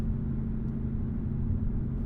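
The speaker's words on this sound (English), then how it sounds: "At highway speed, road noise is present," Road noise inside a 2021 Honda Accord EX-L cruising at highway speed: a steady, low, muffled rumble with a soft constant roar, even in level throughout and with no voices.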